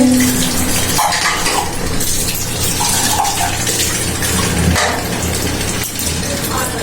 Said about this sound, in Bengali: ইতিমধ্যেই তার বাসন ধোয়া হয়ে যাচ্ছে